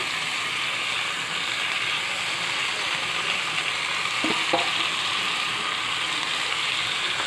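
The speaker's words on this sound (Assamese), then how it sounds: "লফা আৰু শাক আৰু থনথনি শাকখিনি দি দিওঁ।" Lofa and spinach greens, with thonthoni greens, hit a pan of cooked meat over a high gas flame, giving a steady, even sizzle throughout with a few faint clicks partway through.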